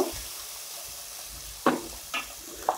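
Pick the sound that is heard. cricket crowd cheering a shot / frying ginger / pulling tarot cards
frying ginger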